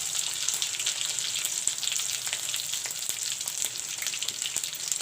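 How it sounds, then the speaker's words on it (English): Cumin seeds sizzle steadily in hot oil, a dense crackling hiss with scattered sharp pops, close and continuous, with no talk. "Put in some jeera."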